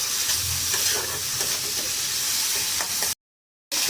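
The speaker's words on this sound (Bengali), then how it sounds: "টমেটোটাকে ভালো করে মশলার সঙ্গে ঘেঁটে নেব।" Tomato stirred and fried with spices in a pan for khichdi, giving a steady, close sizzle with scraping stir strokes throughout before a brief cut to silence near the end.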